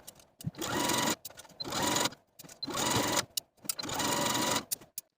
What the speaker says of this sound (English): Now take both of these pant legs to your sewing machine and edge stitch close to that inner fold all the way around the bottom